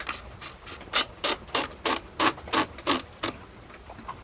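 A muzzle cover is screwed tight onto an IWI Tavor TS12 shotgun, giving a close, quiet run of about a dozen evenly spaced ratcheting clicks that swell and then fade.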